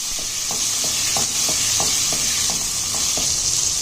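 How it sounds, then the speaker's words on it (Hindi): Loud, steady sizzling of peas and potatoes frying with ginger and garlic in a pan, with a soft scrape of stirring every half second or so. "मटर ऐड करेंगे और इसे अदरक लहसुन के साथ हमने फ्राई करेंगे।"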